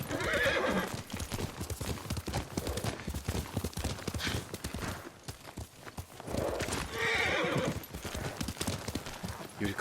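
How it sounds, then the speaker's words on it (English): A horse in the Ghost of Tsushima video game, with rapid clip-clopping hooves throughout and two loud, close whinnies, one early and one later. "Yuriko's horse."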